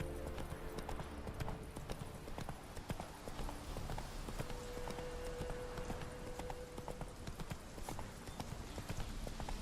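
Hooves of Roach the horse in The Witcher 3: Hearts of Stone clop in a steady, continuous walking rhythm at moderate volume, with in-game ambience and faint music beneath.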